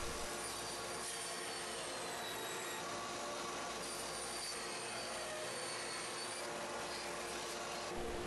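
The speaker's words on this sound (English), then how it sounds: "Now over at the table saw, I'll square up one edge for each of the pieces." Table saw squaring the edges of wood pieces for a dovetailed tea chest, a steady loud whine and rushing cutting noise held throughout with no talking.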